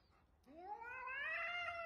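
A cat gives one long, rising meow that swells and holds, close and clear against a quiet room.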